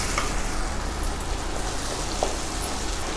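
Whole small onions, about 200 grams, sautéing in a pan for Tamil vendhaya kulambu, a steady, close, continuous sizzle with faint crackles and occasional pops, no talk.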